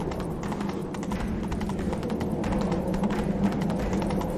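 Video game audio from The Witcher 3: Wild Hunt: steady rhythmic hoofbeats of a galloping horse, continuous and fairly loud over a dense background rumble.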